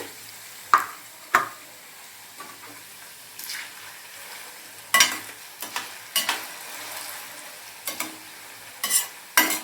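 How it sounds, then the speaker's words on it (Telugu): Grated potato dropped into hot oil in a kadai to fry until golden, giving a faint steady sizzle broken by scattered louder stirring scrapes and clatters, with no voices. "ఈ ఆరిపోయిన ఈ తురుముని ఇలా ఆయిల్లో వేసి గోల్డెన్ కలర్ వచ్చే వరకు ఫ్రై చేసుకోవాలండి"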